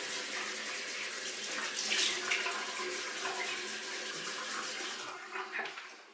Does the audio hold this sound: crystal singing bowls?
no